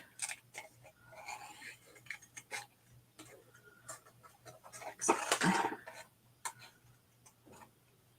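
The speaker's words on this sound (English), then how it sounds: "I'm going to try to move the paper and not the scissors." Scissors snipping watercolor paper in small fussy cuts, a series of faint close ticks and clicks with one louder rustling burst of handled paper midway.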